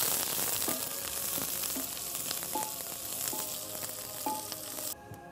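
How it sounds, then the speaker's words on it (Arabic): Onions sizzling and frying in a pan while being stirred for a traditional northern dish, a steady close hiss with light scraping stirs throughout and no talking. "ونشوف نحرك أيضا البصل عندنا، نحركه عشان ياخذ اللون الذهبي."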